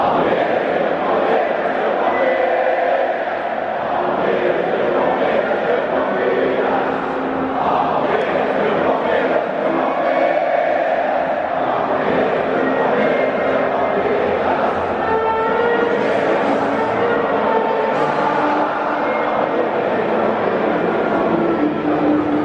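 A large crowd of Palmeiras supporters singing the Brazilian national anthem live in a stadium, a dense sustained wall of massed voices holding a steady chant with no pauses throughout.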